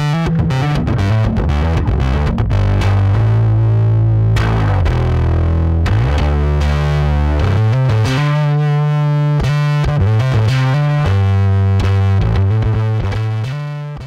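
Bass guitar played through a Catalinbread Giygas Fuzz pedal set for a mild amp-drive tone, a loud, continuous run of gritty, saturated bass notes with some brighter chorus-like shimmer, played alone without talk.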